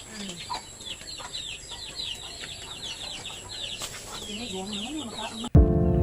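Chickens cluck and chatter repeatedly at close range, a busy stream of short calls, ending with a sudden loud burst of noise.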